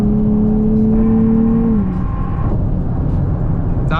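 Subaru BRZ with an aftermarket exhaust droning steadily at cruise, a low engine tone that holds and then eases as the revs drop, loud and close with road noise underneath.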